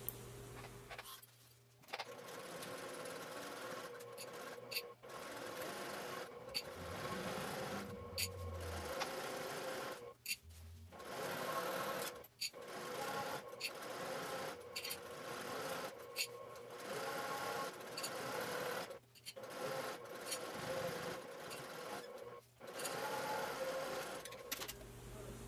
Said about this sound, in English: We're going to start sewing here and then around the rest of the curve.